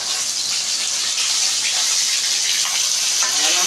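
Rohu fish frying in a pan, a steady, close, loud sizzle and crackle of hot oil that continues without a break.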